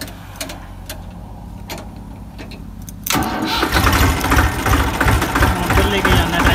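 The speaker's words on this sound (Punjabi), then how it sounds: "ਸਟਾਰਟ ਕਰੀਏ ਟਰੈਕਟਰ ਨੂੰ।" A Massey tractor engine cranks and catches about halfway through, then settles into a loud, steady diesel idle in a wet field after a quiet stretch of faint background noise.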